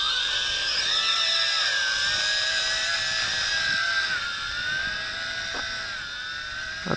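A Tarantula X6 quadcopter drone flies close by, its rotors making a continuous high-pitched buzzing whine that wavers slightly in pitch and stays loud throughout.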